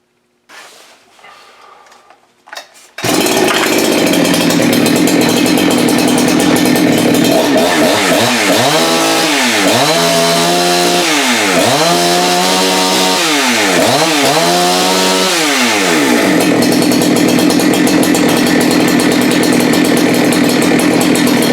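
A Holzfforma G288 chainsaw, freshly fitted with a new bar oil pump and a leaned-out carburetor, starts after a quiet moment, then runs loud and close, revving up and down in several repeated surges before settling into a steady high whine.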